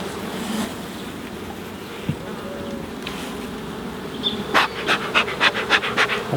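Honeybees buzzing in a busy beehive during a swarm-prevention inspection, a steady droning hum with a run of sharper rhythmic pulses near the end.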